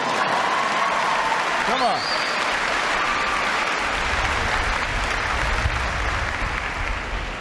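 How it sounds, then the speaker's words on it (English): An audience claps for Spanish navy sailors during a Barack Obama speech, dense sustained applause with cheering and shouted voices over it. "Yeah, we can clap."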